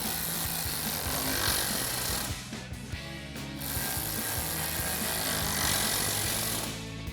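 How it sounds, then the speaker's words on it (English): Ratcheting T30 Torx socket tightening bolts on a Jeep Wrangler JL soft top bracket, a continuous close grinding whir with rhythmic clicking and short breaks, no talk. "T30 Torx socket to tighten these down."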